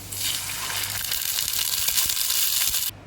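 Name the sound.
pouring water into a cooking pan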